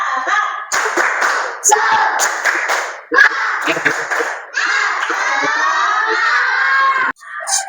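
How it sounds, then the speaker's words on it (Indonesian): Third-grade schoolchildren in a classroom clap and shout together in bursts, loud rhythmic clapping mixed with excited high-pitched voices and cheering, stopping and restarting several times. "Kita tepuk tangan semuanya."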